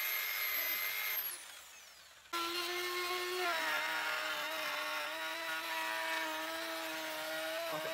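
A power polisher fitted with coarse sandpaper sands a wooden slab, a loud close motor whine that drops away briefly and then resumes as a steady high-pitched drone.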